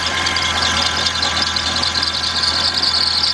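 Engine bay of a 1996 Dodge Intrepid running steadily, with a loud, constant idle rumble and a high, steady alternator whine riding on top, close up and continuous, no voices.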